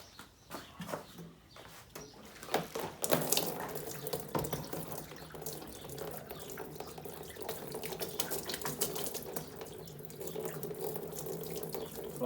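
Liquid drains out of a rusty motorcycle gas tank, starting with a few clunks and handling noises, then settling into a steady, close splashing trickle.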